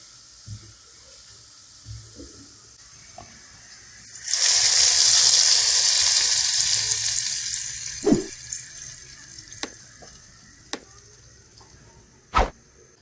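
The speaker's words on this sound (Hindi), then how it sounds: "अब हम इसको दाल के ऊपर डाल देंगे।" Hot tadka sizzles loudly as it is poured over cooked chana dal, a bright, steady crackle that rises suddenly, fades over several seconds, and is followed by a few sharp clinks of utensils.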